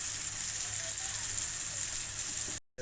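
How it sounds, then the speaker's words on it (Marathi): Prawns fry on a hot tava with a dense, continuous close sizzle and crackle that cuts off abruptly near the end. "मस्त बाजत आहेत चरचरत आहे"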